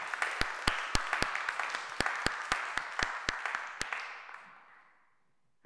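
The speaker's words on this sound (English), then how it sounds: "Give them a big round of applause." Church congregation applause during Mass, with loud distinct claps over a steady crowd clatter that gradually thins and fades out after several seconds.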